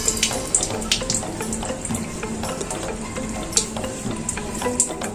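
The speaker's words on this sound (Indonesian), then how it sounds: "daun mintnya ini akan saya isi siram air ya guys, pelan-pelan saja ya" Water trickles and splashes steadily at close range onto a mint plant growing in a plastic bottle, with scattered small taps and drips throughout, poured gently onto soil and leaves.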